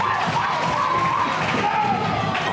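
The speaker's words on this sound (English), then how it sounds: "Listen to this Weymouth crowd getting behind Iestyn Rees." Excited crowd at a British tag team wrestling show in Weymouth, cheering and shouting with whoops and children's voices, loud and continuous throughout.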